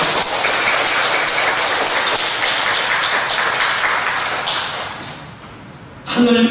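An audience at a Korean ceremony breaks into dense, sustained applause that gradually fades, before a voice speaks at the end.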